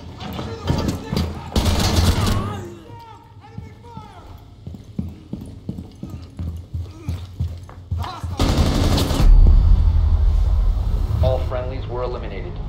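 Gunfire from the video game Rainbow Six Siege in a hostage mission: sharp bursts of shots come early and again in a loud dense stretch near the end, mixed with game voices and radio-style talk.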